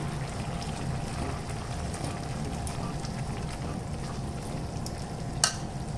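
Washed rajma beans tumble into a pan of cooked-down tomatoes, giving a steady low sizzle and stirring rustle with one sharp clink near the end, no voices.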